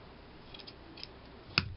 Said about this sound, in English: So I'm just going to cut off a piece of lace.